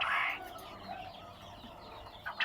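Quail on a farm make a few faint chirps and short calls against a quiet background.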